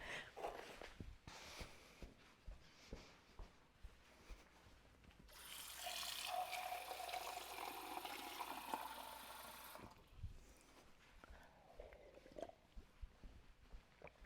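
Water poured into a cup during a Pilates mat session, a steady splashing fill lasting about four seconds in the middle of the clip, with quieter room thumps and movement before and after.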